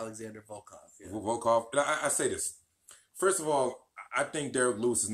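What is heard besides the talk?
None of the usual background noises is heard.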